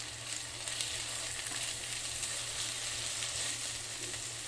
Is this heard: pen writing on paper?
no